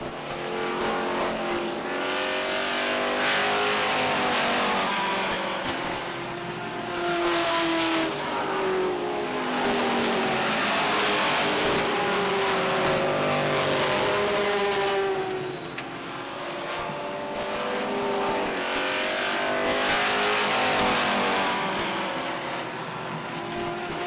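Stock cars racing at Beech Ridge Motor Speedway in 1991, engines roaring loudly and continuously as the pack circles, with pitch rising and falling as cars pass by.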